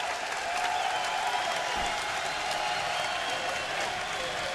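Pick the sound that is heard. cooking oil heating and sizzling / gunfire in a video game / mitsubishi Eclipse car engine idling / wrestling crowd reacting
wrestling crowd reacting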